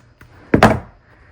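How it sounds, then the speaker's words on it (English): A faint tick followed by a sharp double snap of a metal key fob clamp's teeth clamping shut on a machine-embroidered fob, close and brief, over a quiet background. "Give it a good squeeze, and you can hear those teeth pop."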